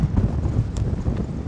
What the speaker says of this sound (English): lovely weather, a little bit windy